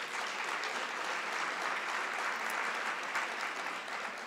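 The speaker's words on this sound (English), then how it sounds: "Can we give them a quick round of applause" Steady audience applause fills a hall at a policy talk on Kansas, an even, moderately distant wash of clapping with no voices over it, holding level for its whole length.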